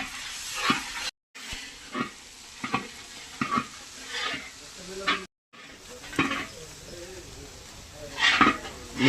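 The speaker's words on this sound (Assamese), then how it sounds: "পিঁয়াজ দিছোঁ।" Onions sizzling in hot oil with five-spice seeds in a home kitchen pan, a steady hiss broken by repeated scraping strokes of a spatula, close up, with brief pauses in the sound.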